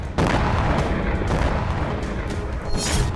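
News footage of a Ukrainian strike in Moscow carries a rapid series of loud booms and blasts, several heavy bursts packed into about three seconds with no talk over them.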